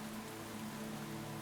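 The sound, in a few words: rain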